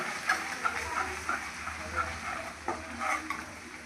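Ginger and garlic sauté in a pan for chicken pickle, a soft continuous sizzle overlaid by regular scraping strokes of a spoon stirring, close up with no speech.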